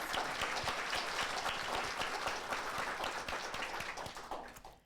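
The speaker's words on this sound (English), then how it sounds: "let's give them all a very warm round of applause" Warm audience applause for a career information panel, a dense, continuous wash of many hands clapping at a moderate distance, holding steady and then slowly tapering off.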